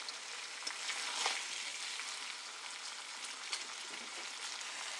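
Mutton being sautéed in a pan, a faint, steady hissing sizzle with light crackles throughout and no speech.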